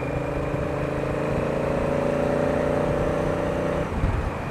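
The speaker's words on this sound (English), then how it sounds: "I love the sound of that exhaust." Honda Africa Twin motorcycle exhaust chugging steadily in fifth gear on a mountain range road, a loud continuous engine drone with steady low harmonics, easing off near the end.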